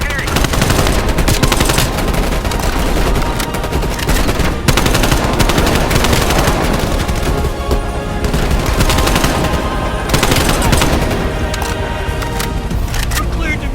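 Sustained automatic gunfire from a flying vehicle in the video game Black Ops, dense and loud with rapid continuous bursts filling the whole stretch, with voices mixed in.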